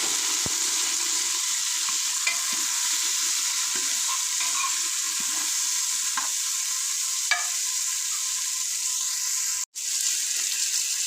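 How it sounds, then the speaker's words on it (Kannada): Tomato being added to frying onions in a pan, giving a steady bright sizzle throughout with a few scraping stirs and a short break near the end. "ಈರುಳ್ಳಿ ಫ್ರೈ ಆಗಿದೆ. ಒಂದೇ ಒಂದು ಕಟ್ ಮಾಡಿ ಇಟ್ಕೊಂಡ್ರೆ ಟೊಮಟೊ ಹಾಕ್ತಾಯಿದ್ದೀನಿ."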